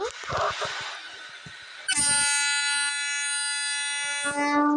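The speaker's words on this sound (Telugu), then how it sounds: "ట్రైన్ సౌండ్ వినిపించిందా మీకు?" In a Roblox train game, after some scattered clicks and background noise, a loud, sustained multi-tone train horn blares close by and holds steadily to the end.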